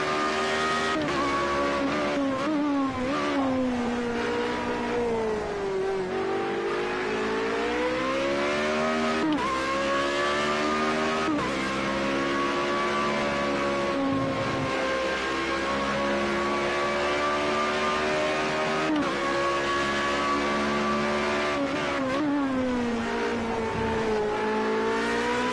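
A Formula Renault race car in Project Cars 2 races on a wet track, its engine revving loudly and continuously up and down through gear changes, with tire hiss and spray throughout.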